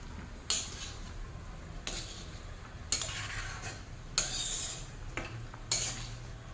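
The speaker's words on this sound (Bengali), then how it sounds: "ভালোভাবে নাড়িয়ে দেব" A spoon stirs egg and potato curry with coconut milk in a pan, five or six distinct metallic scrapes and clinks at irregular intervals against a quiet simmer, close and without talking.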